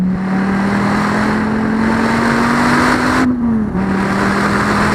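A Dodge SRT Viper GTS engine drones loudly near redline under hard straight-line acceleration, a steady high-revving roar whose pitch climbs slowly, dips briefly as if for a shift, then holds.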